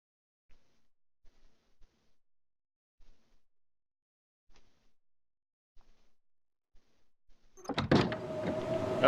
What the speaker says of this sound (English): That sounds like it did finally turn into a blizzard outside.